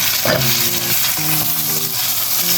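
Diced carrots and potatoes sautéing in a pot give a steady sizzle with stirring scrapes, close and fairly loud, with no talk over it.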